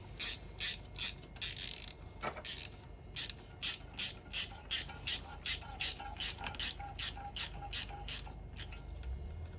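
Clutch bolts on a two-stroke Kawasaki KMX 125 being tightened with a ratchet, giving quiet rhythmic clicking bursts in steady repeated strokes, close up with no talking.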